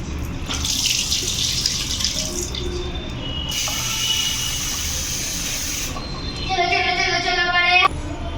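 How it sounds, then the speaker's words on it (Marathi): Rice and lentils for dal khichdi are rinsed clean under water, with a close, steady rush of running water that shifts in bursts as the grains are rubbed and poured. "त्यावरती जे काही पावडर लावलेली असेल ती स्वच्छ आपल्याला पाण्याने असं छान चोडून चोडून हे धुवून घ्यायचं आहे"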